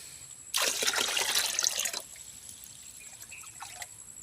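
Spring water from a rural hillside source in Bicol trickles and splashes steadily for about a second and a half, close and fairly loud, then fades to faint dribbles.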